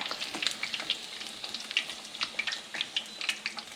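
Pork belly for lechon kawali fries in hot oil in a covered pan, producing a continuous bright sizzle with frequent sharp crackles and spits, close and moderately loud, without talking.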